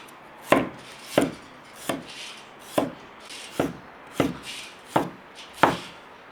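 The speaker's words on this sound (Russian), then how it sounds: "Чеснок, которым будем нарезать вот такими тоненькими пластинками." A knife cuts garlic into thin slices on a cutting board, about eight evenly spaced, crisp strokes, close and fairly quiet with no talking.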